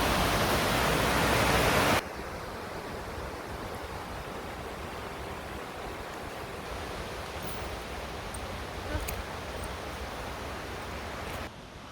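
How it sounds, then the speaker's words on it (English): The Ballinderry River flows past Wellbrook Beating Mill, a steady broadband rush of water, loud at first and then slightly softer and even throughout, with no voices. "So this is the Ballinderry River, and we're out at Wellbrook Beating Mill."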